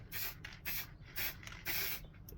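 A finish coat is sprayed onto a plywood Rubik's Cube wall-art piece cut on a scroll saw: four close, loud hissing bursts of spray, separated by short pauses.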